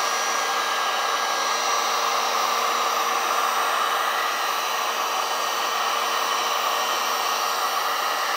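A heat gun blows a constant, loud, even whoosh on a gold foil logo applied to glass, warming it for an acid etching step; no talking.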